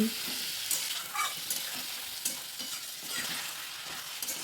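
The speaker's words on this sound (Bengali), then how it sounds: "এর মধ্যে অল্প জল দিয়ে ভালো করে নাড়াচাড়া করে নিচ্ছি" Chicken pieces with ivy gourd and potatoes stirred in a pan after a splash of water, a loud continuous sizzle and hiss with repeated spoon scrapes, close and without any voices.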